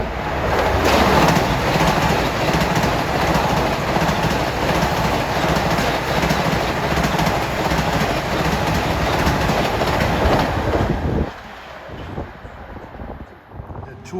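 A westbound LIRR M9 commuter train runs along track 1 on the Main Line, a loud, steady rumble with clattering wheels and wind buffeting the mic that cuts off abruptly near the end as the last car passes.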